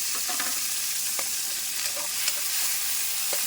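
Garlic, tomato and chili fry hard in a pan on an island home stove for string bean adobo. A loud, continuous sizzle is broken by scattered spatula clicks and stirring scrapes.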